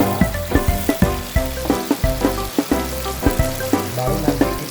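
Food frying loudly in a pan while being stirred, with a dense continuous sizzle punctuated by steady rhythmic scraping strokes of a spatula, close and prominent, no voices.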